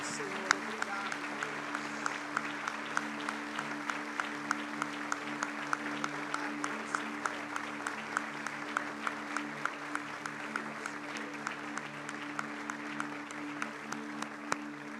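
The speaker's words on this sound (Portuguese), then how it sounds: "nós darmos a Ele em louvor e gratidão uma linda salva de palmas" A church congregation claps in praise and gratitude to God, the hands striking together in a steady, even beat about twice a second over a low sustained drone. The clapping is fairly quiet and keeps going for the whole stretch.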